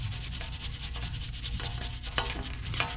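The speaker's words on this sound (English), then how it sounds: "get yourself another wire brush and thoroughly take off all of this surface rust" A wire brush scrubs surface rust off the wheel hub of a 2017-2022 Honda CR-V, giving repeated close scraping strokes in an uneven rhythm, with a few sharper rasps near the end.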